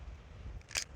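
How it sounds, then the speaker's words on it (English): A pistol's slide release is pushed down, giving a single short metallic snap close to the microphone against a quiet low background. "That was me pushing down on the slide release"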